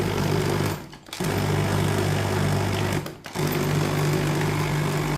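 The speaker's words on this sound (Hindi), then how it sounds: "खजूरों को भी ग्राइंड कर लेंगे।" An electric kitchen grinder whirs loudly and steadily as it grinds dates, stopping briefly twice in short pauses before starting up again, close and with no voices.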